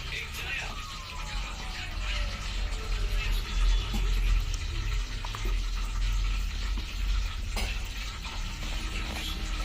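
Chicken pieces frying in a pan for Sunday chicken biryani, a steady low sizzle with occasional stirring scrapes, moderately close, and faint voices talking in the background.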